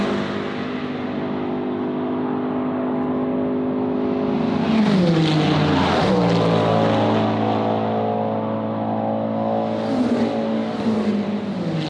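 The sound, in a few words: race cars on track at 6 Hours of Spa endurance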